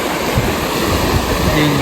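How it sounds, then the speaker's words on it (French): Larger ocean waves on the coast of Crete wash in as a loud, steady roar of surf, with wind buffeting the microphone and no break in the noise. "les vagues sont plus grosses et tout."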